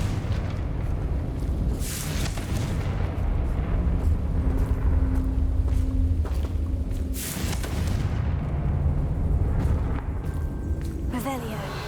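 Confringo fire spell explosions from the Hogwarts Legacy video game, several deep booming blasts with rumbling tails that surge and fade over a continuous low roar.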